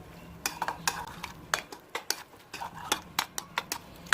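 A spoon mixing boiled macaroni fruit salad in a bowl, sharp irregular clinks and scrapes against the dish at close range, with quiet gaps between strokes.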